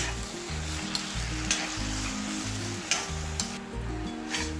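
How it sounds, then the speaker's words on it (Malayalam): Boiled koorka (Chinese potato) frying in hot oil in a pan, a steady close sizzle with repeated scraping stirs of a spatula every second or so, no talking. "ഇത് എണ്ണയിൽ കിടന്ന് നന്നായിട്ട് മൊരിയുമ്പോഴാണ് ഈ കൂർക്കയുടെ ടേസ്റ്റ് കേട്ടോ"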